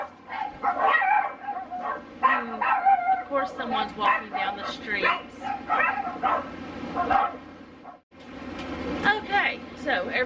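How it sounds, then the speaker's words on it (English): Several neighborhood dogs bark and yip in repeated bursts, some near and some farther off, with someone talking over them beside a smoker grill being powered on outdoors. "every dog in the neighborhood is now barking, I guess because ours started barking"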